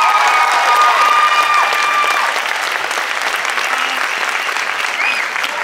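Thunderous audience applause at curtain calls after a chorus performance, dense and steady clapping from a large crowd with a few bright tonal sounds over it early on, easing slightly but continuing throughout.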